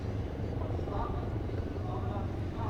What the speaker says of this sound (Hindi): और अब आप देखेंगे 2 एडवांस लाइट हेलीकॉप्टर्स जिसके माध्यम से कमांडोज की मुख्य टुकड़ी यहाँ पहुंचेगी।